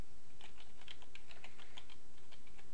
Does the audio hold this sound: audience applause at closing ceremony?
no